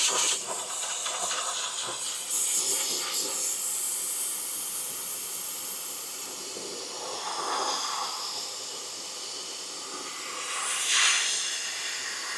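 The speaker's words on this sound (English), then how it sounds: "an air compressor, yes, will blow the light dirt," Compressed air blasting light dirt out of a car engine bay, hissing jets that swell and fade in several bursts over a steady airy rush, with no talk.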